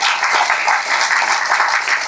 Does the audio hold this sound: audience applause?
yes